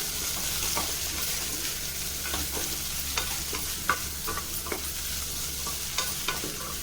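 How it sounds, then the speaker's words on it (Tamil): Garlic and pearl millet khichdi ingredients sauté in a pressure cooker, giving a steady close sizzle broken by scattered scraping and stirring clicks as a spoon moves them around, with a low hum beneath and no talking. "இப்போ இதை நம்ம வதக்கிக்கலாம்"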